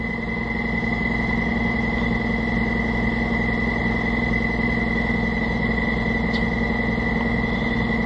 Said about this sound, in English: I'm impressed our air compressor is actually doing this, because as you can hear, it sounds very sick.